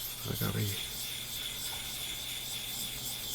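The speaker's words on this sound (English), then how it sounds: "Let's clean the stone off. And this is a soft tomo Nagura, but it does scratch." Japanese natural whetstone rubbed clean with a soft tomo nagura, one short burst of gritty stone-on-stone scraping near the start, then quiet background hiss.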